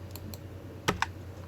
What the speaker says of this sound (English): select them by clicking the delete key